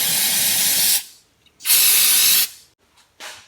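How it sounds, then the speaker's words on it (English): An aerosol can sprays brake cleaner onto a Honda Talon side-by-side during a service, giving two long, loud hissing bursts and a shorter third one with brief pauses between. "I like to spray stuff down with some brake clean."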